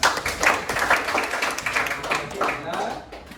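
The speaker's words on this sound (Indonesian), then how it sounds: "tepuk tangan buat." A class of students claps hands together in a classroom, a loose burst of many hands that rises and falls in uneven waves, fairly close, with some voices mixed in.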